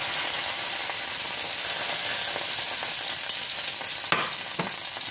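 Meat fries in a pan for a German dinner dish, giving a steady, close hiss and sizzle with a couple of soft clicks and taps near the end, and no talking.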